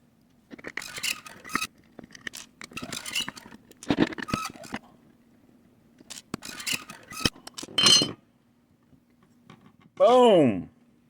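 Opening the back plate of a Greer Royal Velvet guitar pedal: close scraping, clicking and rattling handling noises come in irregular bursts, with a short rising-and-falling tonal sweep near the end.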